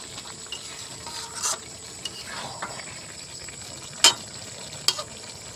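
Fish-head and cabbage curry being stirred in a pan on a gas stove, a quiet steady sizzle with soft scraping and a few sharper clinks of the spoon against the pan.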